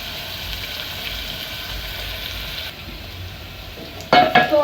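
Onions sizzle and fry steadily in a pan for pilau, a constant crackling hiss that thins partway through, then louder clattering stir noises at the end.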